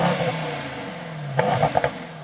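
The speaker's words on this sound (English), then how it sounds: "that's the 4-liter V8 bi-turbo, 612 horsepower, and here in the E63 S" Mercedes E63 S AMG with a 4-litre bi-turbo V8, a short rev rising over a steady engine drone, close and fairly loud, with a few clattering blips near the end.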